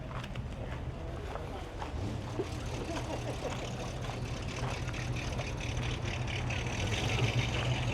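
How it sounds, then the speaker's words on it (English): A Pontiac Trans Am drives away from an American car meet in the UK, a low engine rumble building gradually and getting slightly louder over several seconds amid outdoor background noise. "I'll get the Trans Am quickly as it leaves here."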